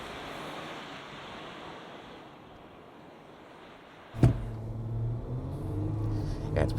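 Ford Everest Tremor pulling away from a standstill in 4A with traction control off. Steady wind-like rush at first, then a sudden jump as the engine note rises and holds under acceleration.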